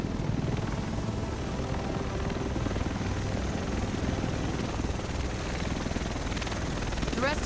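A helicopter approaches in a city setting, its rotor chop a constant close rumble with a rhythmic beat growing more distinct near the end.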